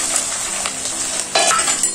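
Chillies and onion dropped into hot oil for a mixed vegetable pickle, giving a steady close sizzle with a brief burst of crackling as pieces hit the pan and a light stir.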